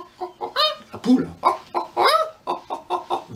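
A person's voice imitates a hen clucking during a masked sound-effects class, giving a quick, uneven run of short, close clucks and squawks alone.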